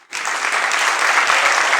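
A church congregation bursts into steady, dense clapping that starts abruptly and carries on evenly throughout, loud and close, with no speech over it.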